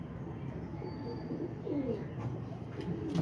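Pigeons, including a female, coo softly in a loft among the flock, low murmuring calls repeating over a quiet hum of background noise.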